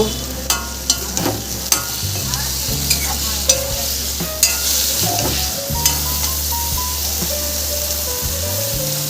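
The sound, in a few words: bitter gourd stir-fried with salt and turmeric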